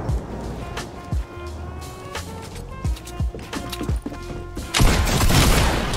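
Sniper gunfire in a Fortnite match rings out as a series of sharp, loud cracks spaced irregularly, followed by a denser burst of noisy blasts toward the end.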